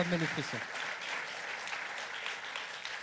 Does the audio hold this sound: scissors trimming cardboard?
no